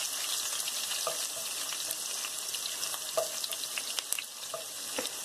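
Onions for a homemade beef stew sautéing in a pan, a steady close sizzle with scattered soft scrapes and clicks of stirring throughout, no voices.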